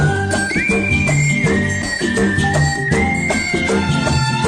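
Whistling carries the melody of a Bollywood film song, a bright, sustained, sliding whistle line riding on top of dense full-band music that plays throughout.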